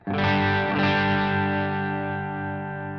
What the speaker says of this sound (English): So this is the bridge pickup on full humbucker.